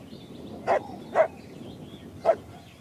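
A dog in The Last of Us Part II gives three short, separate yelps or barks, each clear and mid-distance, over a faint ambient bed with a soft tonal whine drifting in between.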